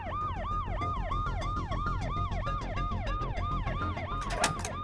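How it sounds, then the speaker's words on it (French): An ambulance siren arriving, wailing up and down in a fast, regular cycle, loud and close throughout, with a brief clatter near the end. "L'ambulance est arrivée."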